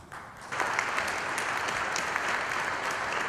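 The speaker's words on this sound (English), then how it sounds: "A round of applause, please" Applause from an audience for a panel speaker at an innovation panel, a quiet start that swells into broad, even clapping, sustained and moderately distant.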